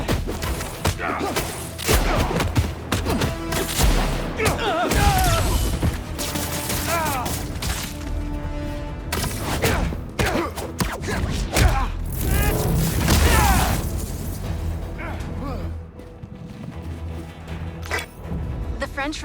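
Spider-Man 2 game combat with gunfire, booms and heavy thuds layered over loud continuous action and score, with voices shouting over the din.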